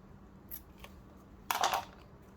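Scissors snipping through a paper tag for a junk journal, a couple of faint small snips followed by one louder, close crunching cut, in a quiet room.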